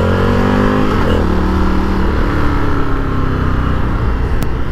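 A motorcycle engine, an Indian FTR 1200 or Yamaha MT-09 naked bike, roars loudly and continuously up close, its pitch rising and falling as the throttle is worked, with no talk over it.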